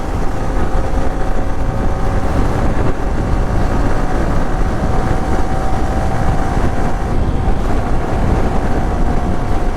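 Loud, continuous motorcycle engine drone while riding from Dhaka toward North Bengal, steady and unbroken, mixed with heavy wind rush against the microphone.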